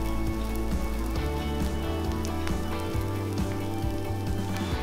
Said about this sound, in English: I am going to turn my stove on to medium heat. And I am going to cook this